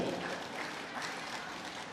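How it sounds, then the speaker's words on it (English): Distant arena crowd at a women's singles badminton match, oohing and clapping in a soft, steady wash of applause that runs throughout. "Crowd ooh and ah"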